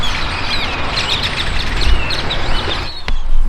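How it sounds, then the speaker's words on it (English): Birds chirp in a roadside tree, a busy run of quick tweets and calls over steady outdoor background noise, with a louder burst near the end. "Birds in that tree are wild."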